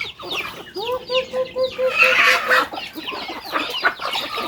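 Several chickens cluck in short, repeated bursts close by, with scattered squawks overlapping in a busy farmyard chorus.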